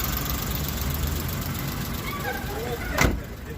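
A car engine idles steadily with a low, even rumble at a used-car market, a brief sharp noise briefly rising over it near the end.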